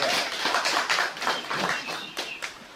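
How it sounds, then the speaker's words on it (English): Applause from an audience at a book launch. Dense, steady clapping fills the whole moment and fades slightly toward the end. "What about a round of applause for Sonia?"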